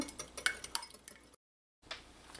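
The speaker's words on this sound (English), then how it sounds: "I'm just gonna break my egg by whisking it" An egg beaten by hand in a bowl for making cinnamon roll dough, with a quick, light, uneven tapping of the whisk against the sides. A short silent break, then soft mixing noise resumes.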